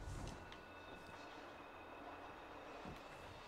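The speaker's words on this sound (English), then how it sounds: "Try to push you out of the way before a train comes." A train passing in Destiny 2 rumbles as a steady, faint rolling roar with a thin high whine, no talk over it.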